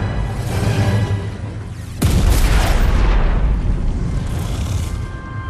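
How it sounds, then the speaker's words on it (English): A sudden loud boom bursts out in a Skylanders: Trap Team video game and rumbles away over a few seconds, following a steady low hum. "Initiating complete and total explosion!"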